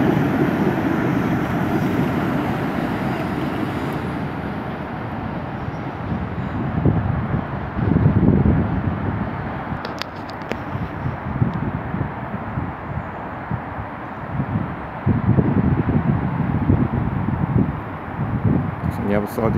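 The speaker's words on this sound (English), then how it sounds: "London bound train from Portsmouth going across the bridge there." A London-bound train from Portsmouth rumbles steadily across a railway bridge at Portcreek junction in Hilsea. The rumble carries through with heavy wind noise on the microphone, and someone speaks over it.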